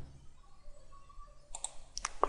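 Mouse clicks while working in Autodesk Inventor 2015 CAD software: a few faint, short clicks arrive in the last second, near and quiet, following a stretch of low hum and soft tones.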